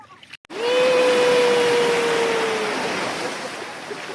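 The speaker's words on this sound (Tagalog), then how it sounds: "Lakas ang alon." A strong ocean wave crashes close by on Cagbalete Island and its broad roar of surf sustains, slowly fading over a few seconds.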